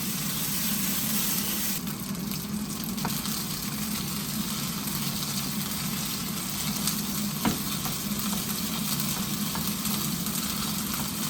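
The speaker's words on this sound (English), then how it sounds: "While the Staka is melting," Staka, a Cretan cream of butter, melting in a pan sizzles and fries steadily at a near, even level, with a faint crackle running through and no talk.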